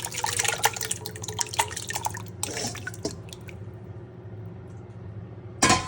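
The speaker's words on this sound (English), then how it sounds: "Next, add your tomatoes." Crushed tomatoes poured into a pan of reducing vodka sauce, a close run of wet splashes and drips that thins out into quiet, followed by a sharp clack at the end.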